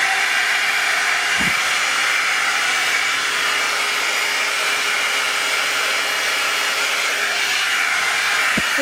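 A hair dryer at its top setting blows a loud, steady broadband whoosh of air, close and constant throughout, with a faint tonal motor hum underneath.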